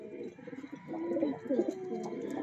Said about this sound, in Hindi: ये वाइट वाले कबूतर की घरवाली है, दोनों को टकरे हैं।